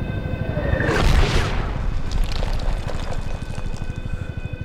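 A mortar round explodes in Medal of Honor with a single heavy boom and rumbling blast that decays into a gritty rattling tail, no speech over it.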